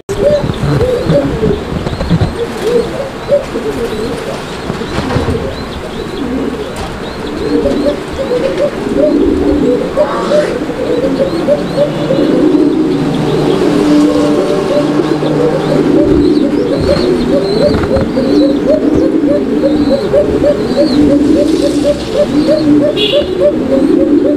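Fancy pigeons in a loft cooing repeatedly in a steady rhythmic chorus, close and prominent, with occasional chirps and faint background noise.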